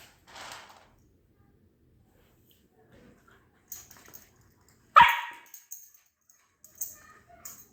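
A pet dog barks a few scattered times, sharp and fairly close, with a loud bark near the middle and quieter yips around it, separated by stretches of near silence indoors.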